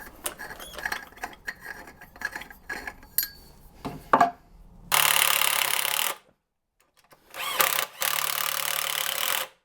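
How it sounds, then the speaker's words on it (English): Drill driver sinking screws into a solid wall or plasterboard while a shelf is mounted: a stretch of clatter, then two loud steady whirring runs, each with a short pause. "I'm being lazy and just using a drill driver"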